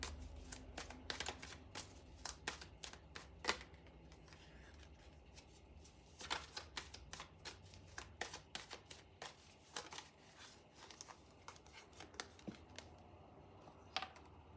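Tarot cards are shuffled by hand, a rapid, irregular patter of soft riffling slaps and flutters in close, quiet bursts, with a few louder card clacks as they threaten to spill out.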